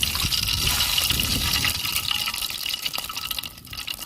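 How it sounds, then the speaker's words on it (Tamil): Cooking oil is poured into a hot pan for an Indian goat bone curry, a continuous close liquid pouring and sizzling wash that fades slightly toward the end. "சட்டி காஞ்சிருச்சு நம்ம எண்ணெய் ஊற்றிக்கிறோம்"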